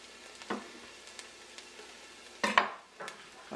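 Onion and garlic sizzling in a pot on a stove, with soft frying hiss under a few clinks and scrapes of a utensil stirring them around, fairly quiet and close.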